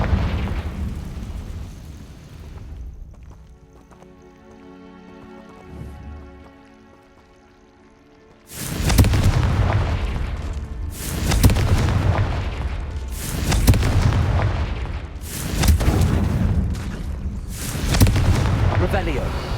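A Confringo fire spell explodes in the Hogwarts Legacy video game. A quiet tonal passage gives way to a run of loud, booming blasts that recur every couple of seconds in a dense, rumbling burst, with game speech mixed in.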